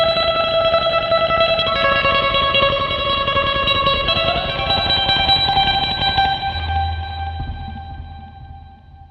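Electric guitar played through a Boss DD-20 Giga Delay pedal with reverb added, sustained chords whose echoes stack and smear into a lush wash, then slowly decay as a low note enters near the end; no talking.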